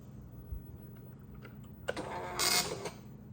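Commodore 64 dot-matrix printer with a dry ribbon, a few faint clicks followed by a sudden mechanical thunk and a loud buzzing print-head run lasting about a second, close up.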